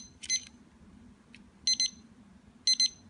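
An Accuon 4-channel digital timer sounds its alarm in three clusters of rapid high-pitched electronic beeps, roughly one second apart. A faint low hum sits underneath.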